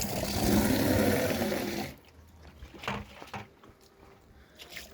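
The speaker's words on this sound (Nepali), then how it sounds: "यो दुइटा त घरको धारा होला।" Water gushes steadily from a tap for about two seconds, then cuts off, leaving quiet scattered sounds and faint distant voices.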